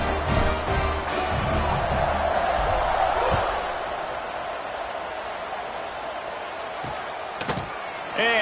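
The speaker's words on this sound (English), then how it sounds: "this crowd is buzzing after that last score." Football stadium crowd in the video game College Football 26, a continuous loud buzzing roar with a few sharp thuds near the end.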